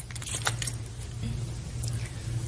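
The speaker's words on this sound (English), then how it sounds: "The exchanging of the keys." A set of keys jangles briefly and metallically as it is handed over in a courtroom, over a low steady hum.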